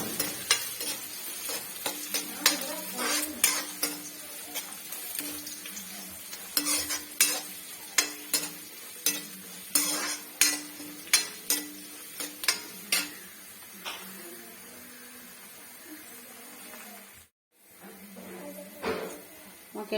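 Chopped garlic and ginger sizzle in hot oil in a pan, with a spoon scraping and stirring in a run of regular clicks and strokes, near and moderately loud, followed by a brief pause.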